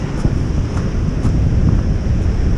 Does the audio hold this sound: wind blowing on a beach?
yes